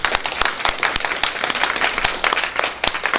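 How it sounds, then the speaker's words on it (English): A round of applause from the audience at an all-women's autism panel in Atlanta, steady clapping throughout with sharp individual claps standing out, fairly close and full. "I think she deserves a round of applause."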